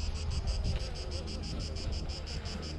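Honeybees buzz around a hive on a very hot day, a steady faint droning hum with a rhythmic pulsing tone over light wind noise.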